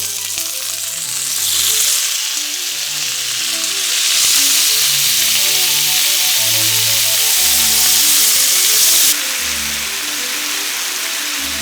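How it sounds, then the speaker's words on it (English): Meat sizzles in a pan for pho, a loud steady crackling hiss lasting throughout, swelling and easing slightly, with faint background music and no talk. "I'm gonna fry up the meat, give it some flavor"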